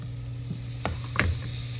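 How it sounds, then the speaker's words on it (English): Freshly flipped gouda burgers sizzle in a hot pan, a steady close frying hiss with a few brief stir-like clicks and scrapes, no voices. "You should hear some sizzling noise."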